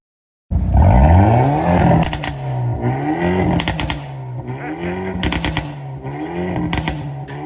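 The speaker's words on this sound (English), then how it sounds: "Talking about the i30's performance exhaust system, I want you to listen to this." A Hyundai i30 N engine revs hard in repeated bursts in N mode, its performance exhaust roaring and crackling with sharp pops between the throttle blips, loud and close.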